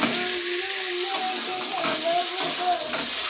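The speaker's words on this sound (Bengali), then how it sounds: "পেঁয়াজটা ভাজা হয়ে গেছে, এবার আলুটা দিলাম" Potatoes frying in hot oil after onions, a continuous close bright sizzle with crackling spatters and a faint clink of a utensil stirring in the pan.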